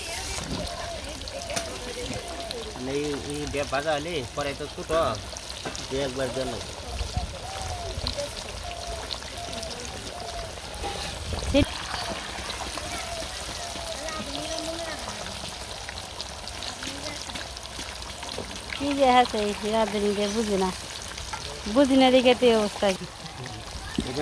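Fish goes into hot oil and fries in a village kitchen, a soft, steady sizzle and crackle with occasional splashy bursts, while people talk over it throughout.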